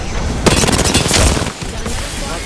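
Loud, close gunfire in Apex Legends: rapid bursts of automatic shots and heavy booms packed together over a couple of seconds, with a brief lull near the end.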